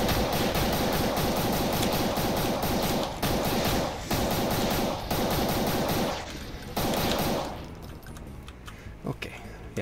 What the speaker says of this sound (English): let me stop shooting